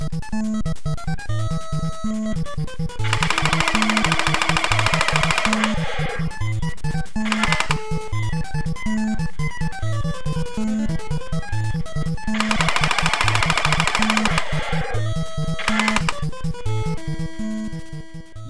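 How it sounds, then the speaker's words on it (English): Rapid electronic gunfire and blaster effects from the Famicom light gun game Space Shadow, played with the Hyper Shot, ring out in steady repeating bursts over a looping chiptune melody and pulsing bass, with louder noisy volleys surging in periodically. "Let's shoot some aliens."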